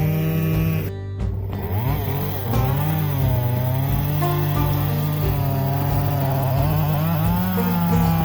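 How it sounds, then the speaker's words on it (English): A 14-inch steel chainsaw clearing a mountain trail runs with a loud, steady engine drone, with one brief sharp burst near the start and small shifts in pitch as it works, close by with no talking. "That's a 14-inch steel chainsaw, works good for this kind of work."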